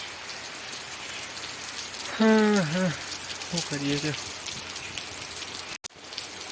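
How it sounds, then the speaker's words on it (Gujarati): Heavy rain pours down in a steady, even hiss throughout, while a person speaks briefly over it midway and a short clunk cuts in near the end. "વરસાદ ફૂલ ચાલુ થઈ ગયો"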